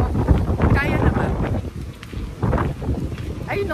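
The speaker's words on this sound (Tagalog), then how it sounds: "And ang lakas ng hangin." Strong, cold gusts buffet the microphone in heavy, rumbling blasts outdoors in Dubai, while people talk nearby under the wind noise.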